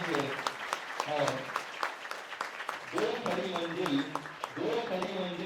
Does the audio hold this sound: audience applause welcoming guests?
yes